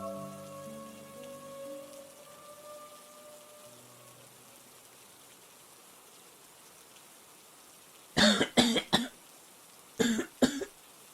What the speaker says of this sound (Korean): 갑자기 들려온 기침 소리에 정신이 번쩍 들었다.